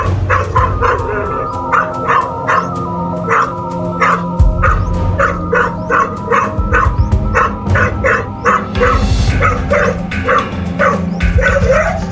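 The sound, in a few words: dog barking at a cobra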